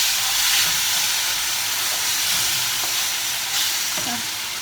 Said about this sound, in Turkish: Sütünü de suyu döküyorum.